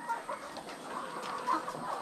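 Chickens cluck in short, scattered calls, several soft chirps and one brighter squawk, close by over a quiet farmyard background with no talk.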